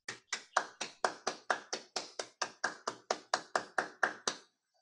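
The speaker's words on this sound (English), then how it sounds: "Let's give him a big round of applause" Roughly fifteen sharp, evenly spaced claps ring out close and loud at a steady rhythm before stopping abruptly, applause offered to a lecturer at a metaverse talk.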